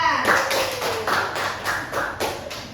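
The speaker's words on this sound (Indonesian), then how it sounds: "Beri tepuk tangan untuk kita semua." Students in a physics classroom clap their hands together in a loose, uneven burst of fairly close, loud claps, with some voices mixed in.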